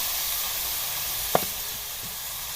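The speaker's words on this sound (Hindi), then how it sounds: "इसको हम 2-3 मिनट के लिए फ्राई करते हैं। जी चिकन हमारा फ्राई हो रहा है।" Cubed chicken fries in a pan with a steady, soft hiss of sizzling oil. A single light clink of a utensil against the pan sounds midway through, with no talking.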